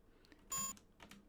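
A short, high electronic beep from the ship in Space Quest II, one bright tone lasting a fraction of a second amid faint clicks, quiet and alone.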